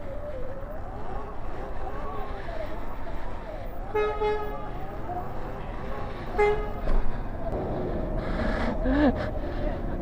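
Car horn honking at an electric dirt bike rider in a bike lane: short bursts around the middle and a longer honk near the end, over continuous traffic and engine noise.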